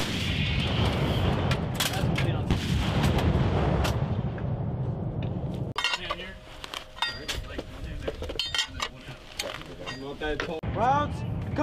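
A Marine artillery battery fires rounds, with heavy booms and rumbling blasts at first, then metallic clinks and shouted commands as people talk and yell over the firing.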